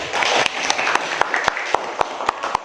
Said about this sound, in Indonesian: Bisa tepuk tangan bagi teman-teman.